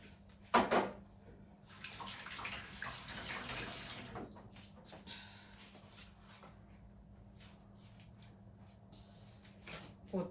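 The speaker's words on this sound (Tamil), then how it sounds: "இதால் இன்னும் ஒரு கப்பை நான் ஊற்றி விட போகிறேன்." A cup of water is poured into pizza dough in a home kitchen, a faint splashing burst lasting a couple of seconds, followed by quiet handling clinks.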